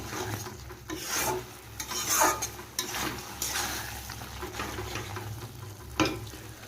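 Taro leaves sizzling in oil in a pan, unboiled, with a steady close frying hiss and occasional scraping and stirring rubs, without voices.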